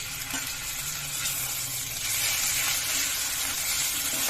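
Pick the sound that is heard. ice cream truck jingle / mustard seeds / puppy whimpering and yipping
mustard seeds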